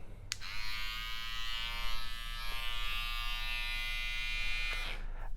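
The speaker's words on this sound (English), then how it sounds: "I would say it's probably the loudest trimmer I've got right now." Cordless electric hair trimmer with a loud motor running steadily on its own, a close, constant high-pitched buzz with a click at start and end.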